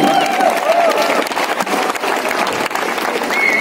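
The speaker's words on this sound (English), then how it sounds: "A claps for him, Yargatti sir." An audience at a university ring ceremony claps loudly and continuously for a guest, a dense, close round of applause with a few voices mixed in.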